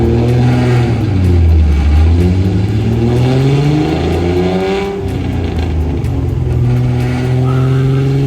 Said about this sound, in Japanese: 昔のシボレーのエンジンって感じだよね。